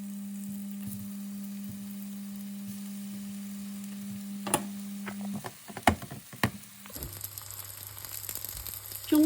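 Flour-coated tofu slides into hot oil in a heated wok; after a few clinks and knocks the steady hiss of frying rises and continues to the end, over a low background hum.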